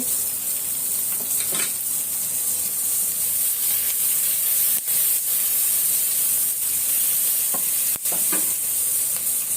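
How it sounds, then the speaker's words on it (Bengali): Cardamom, bay leaf and onion frying in oil for biryani, a steady close sizzle and hiss running throughout with a few faint stirring clicks, no voices. "সাদা এলাচ, তেজপাতা, পেঁয়াজ দিয়ে আমি ভেজে নিচ্ছি একটু।"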